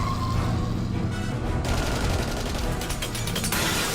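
Tommy gun fire in an animated Batman: Caped Crusader episode: rapid rattling bursts mixed with mechanical clatter, loud and dense, with a fast rhythmic stutter near the end and no talk.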